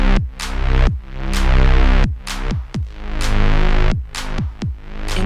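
Kick drum pattern from a Roland MC-707 groovebox, with the bass track sidechained so its volume ducks and pumps on each kick; loud, steady electronic groove playing alone without voices.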